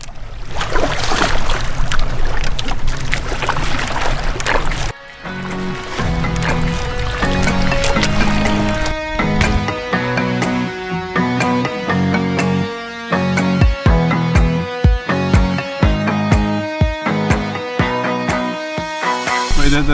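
A small boat motors out toward a coral garden snorkeling spot off Pamilican island, its engine and rushing water loud for about five seconds before upbeat music with plucked, rhythmic notes takes over.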